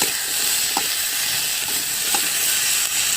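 Papaya and potato pieces with salt and turmeric fry on an outdoor clay stove, producing a steady close hiss and sizzle with a few soft pops and no talking.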